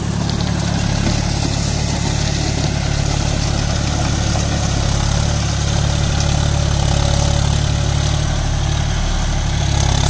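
A John Deere 5050 D V1 4WD tractor with big tyres runs a side-disc rotary tiller while puddling a clay field, its diesel engine droning loud and steady with constant vibration and no pauses.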